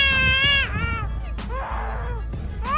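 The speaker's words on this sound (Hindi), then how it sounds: "Black collar starling. इस पक्षी की आवाज सुनने पर ऐसा लगेगा जैसे कोई छोटा बच्चा जोर जोर से रो रहा हो।" A black-collared starling gives loud, wailing calls resembling a crying baby, several rising and falling harmonic cries in quick succession, close and clear.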